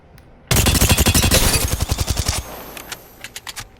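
Rapid automatic weapon in Apex Legends firing one sustained burst of about twenty closely spaced loud shots for two seconds, then a few sparse echoing pops and trailing clicks.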